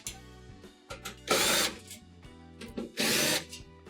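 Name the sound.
power drill removing 1/4 inch screws from stove panel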